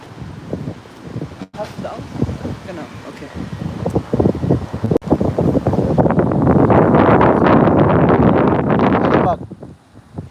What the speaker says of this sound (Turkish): Ama her yerden esiyor rüzgar.